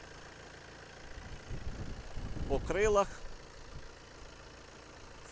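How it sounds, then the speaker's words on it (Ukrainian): A Volkswagen Tiguan 2.0 TDI diesel idles quietly and steadily with a low, even rumble, while someone speaks briefly over it near the middle. "Двигун працює рівнесенько"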